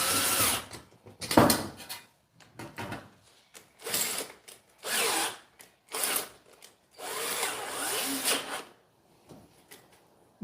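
Screw driven in with a power drill, several short whirring bursts of a second or so each, separated by pauses, fairly close and moderately loud, with no talk.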